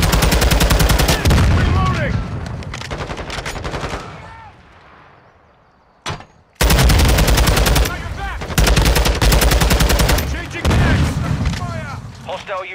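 Heavy automatic gunfire rattles through a Hardpoint match on the Shoothouse map, with long loud bursts and possible booms. It dies away to near quiet, gives one sharp shot, then the dense firing resumes.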